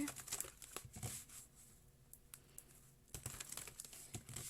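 Tarot cards are shuffled up close during a reading, quiet papery crinkles and rapid riffling clicks in two bursts separated by a calmer stretch of light taps, with no voices.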